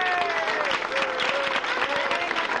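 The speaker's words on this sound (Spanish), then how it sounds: "Un fuerte aplauso." A crowd gives steady, dense applause at an official ceremony naming adopted sons of the town of Ciales, with a voice briefly heard through the clapping.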